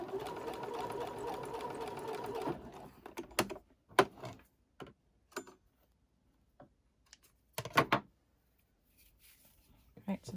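A sewing machine runs a continuous stay stitch along the end of fabric for a newborn elf tunic, then stops; short clicks and taps of handling the fabric and machine follow.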